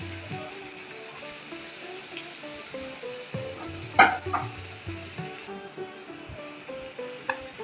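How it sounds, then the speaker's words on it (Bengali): Eggplant with salt and turmeric is stirred as it fries in a pan, giving a steady sizzle with repeated scraping strokes and a sharp clink partway through, close by and without speech. "এবার ভালো করে নুন হলুদটার সাথে বেগুনগুলো দিয়ে নাড়াচাড়া করে নেব"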